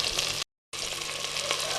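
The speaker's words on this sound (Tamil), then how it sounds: "தக்காளி நல்லா வதங்கட்டும்." Tomatoes sauté in a pan while clay pot chicken is being cooked, giving a steady close sizzle and frying crackle that stops briefly and then resumes.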